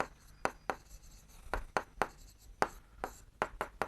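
Pen or chalk strokes on a surface while a teacher works through a Class 7 maths perimeter-and-area problem, a series of sharp, uneven taps and scratches, close and fairly quiet, with no talking.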